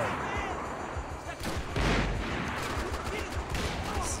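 Gunfire in a Max Payne game comes as a dense, loud run of shots and blasts over a continuous noisy game backdrop, with voices faintly mixed in.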